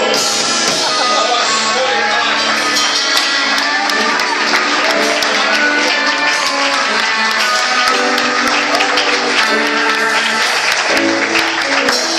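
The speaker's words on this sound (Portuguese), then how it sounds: "Aplauda o Senhor." Church congregation applauding during an evangelical worship service, loud continuous clapping blended with music and cheering throughout.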